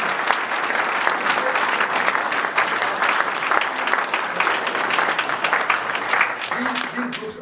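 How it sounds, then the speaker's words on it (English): A gathered audience gives a round of applause, dense sustained clapping throughout, with a voice speaking briefly over it near the end. "can I just all give us a round of applause?"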